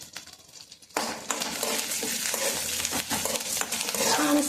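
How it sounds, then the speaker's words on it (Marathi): Four or five garlic cloves, green chilli and curry leaves hit a hot pan after a quiet moment, bursting into a steady sizzle and crackle with occasional stirring scrapes, close and fairly loud. "छान असं भाजून घ्यायचं"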